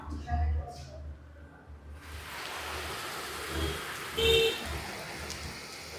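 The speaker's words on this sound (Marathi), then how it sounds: "ही पाऊस बघा बाहेर." Heavy rain pouring outside a shop during a storm, a dense steady hiss building after a quiet start, with low rumbling bumps and a voice speaking over it.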